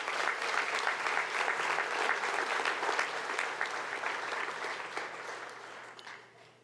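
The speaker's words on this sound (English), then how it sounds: "Give him another round of applause." Sustained audience applause fills a hall at the Florida Inventors Hall of Fame induction ceremony, dense and steady before tapering off near the end.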